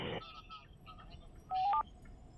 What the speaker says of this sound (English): Oh, got a phone call here.